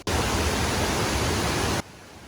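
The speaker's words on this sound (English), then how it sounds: "you're about to hear just really loud water" Loud river water rushing in Kyoto, a dense, steady roar that fills the clip for nearly two seconds before cutting off abruptly to quieter background.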